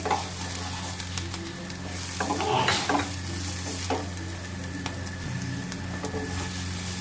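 Finely chopped capsicum added to transparent onions frying in a little oil in a pan, with steady close sizzling and several scraping stirs of a spatula for bread paneer lollipop filling.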